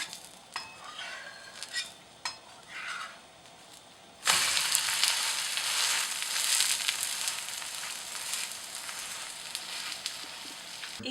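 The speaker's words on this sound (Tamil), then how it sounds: "கல்லில் இந்த மாவை ஊற்றுனா நம்மளோட அடை ரெடி." Lentil adai batter hits a hot stone griddle and breaks into a loud, steady sizzle that carries on to the end, after a few soft stirring and scraping sounds at the start.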